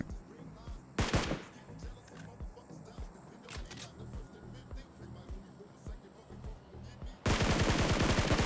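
Gunfire at a bot in the BGMI mobile battle royale game: a near burst of rapid automatic shots, scattered single cracks, then a sustained loud volley at the end.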